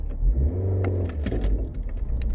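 Car engine idling and revving in traffic, a steady low rumble with intermittent clicks and knocks, close and fairly loud.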